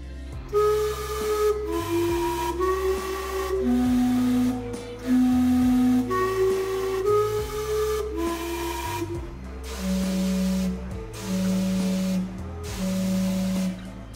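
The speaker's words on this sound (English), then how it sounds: "getting back to see the noon steam clock, as the noon one is the longest one they have each day" The Gastown steam clock in Vancouver sounds its noon whistle, a sequence of tuned, sustained notes playing a slow melody with brief hissing gaps between each tone.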